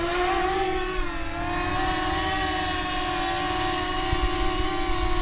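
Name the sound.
DJI Mini 5 Pro drone propellers whining with prop guards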